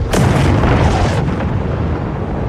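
A loud, sudden explosion bursts in with a heavy roar that sustains and slowly rumbles on for a couple of seconds.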